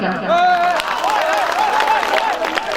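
Mushaira audience in Kishanganj claps as a lively crowd, a brief burst of applause with a clear voice speaking or singing on top of it.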